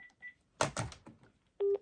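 Ring signal of a Panasonic KX-TG5583 cordless phone during an intercom call: short electronic tones near the start, a brief burst of muffled sound in the middle, then one steady, clear beep near the end.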